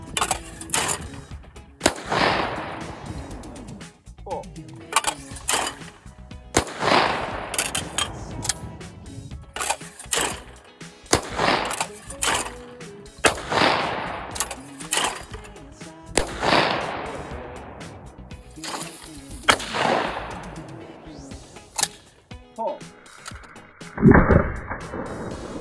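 Mossberg shotgun fired at thrown clay targets outdoors, about ten loud booming blasts at irregular intervals, each with a short echoing tail, with no talking.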